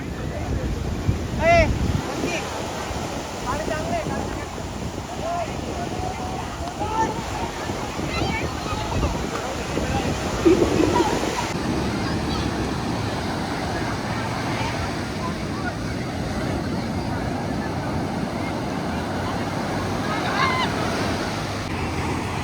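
Sea waves at Kashid beach roll in steadily with a continuous wash of surf and wind buffeting the microphone, while voices talk intermittently over the roar.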